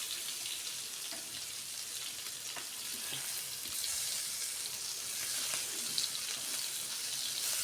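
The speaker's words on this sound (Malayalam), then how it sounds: "മീൻ അടുത്തിടാം ഈ നമ്മുടെ മീൻ ഫ്രൈ" Fish, rubbed with black pepper, fries in a pan with a steady, bright hiss and crackle of oil, continuous and fairly close, with no talking over it.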